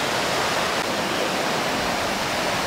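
Flooded Roya river rushing and crashing in full spate, a loud, unbroken roar of churning water close by, steady throughout with no voices.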